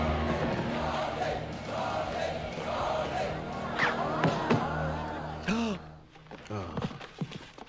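Kumite tournament crowd in the martial-arts film Bloodsport, a dense murmur and shouting of spectators with scattered sharp impacts and cries, dropping briefly near the end before resuming.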